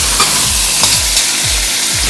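Garlic, onion, ginger and tomato sautéing for a sauce in a hot pan, with a steady loud sizzle and repeated soft scrapes of stirring, no voices.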